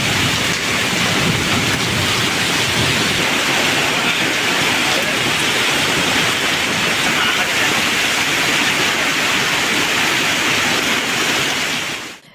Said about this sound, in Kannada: ಬುಧವಾರ ರಾತ್ರಿಯಿಂದ ಎಡಬಿಡದೆ ಗುರುವಾರ ರಾತ್ರಿಯವರೆಗೂ ಮಳೆ ಸುರಿಯಿತು.